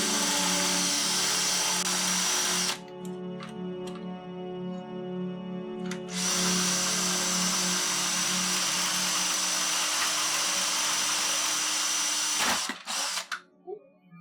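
A power drill with a stepped bit bores holes in a cat keyboard's case, whining steadily for several seconds, pausing briefly, then grinding again before winding down with short bursts near the end.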